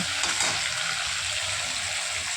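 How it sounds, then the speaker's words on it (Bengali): Prawns coated in salt and turmeric fry in hot mustard oil in a wok, a steady close sizzle and crackle of spitting oil that continues evenly with no talking. "কড়াই সর্ষে তেল দিয়ে নুন হলুদ দিয়ে চিংড়ি মাছ ভেজে তুলে নেব"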